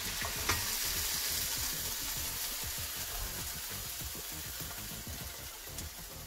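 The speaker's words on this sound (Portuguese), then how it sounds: "Então primeiro aqui eu estou refogando o tomate e cebola." Tomato and onion sauté in a pan as the base for a mushroom risotto, giving a steady, even sizzle with soft stirring scrapes throughout, close and alone with no talk.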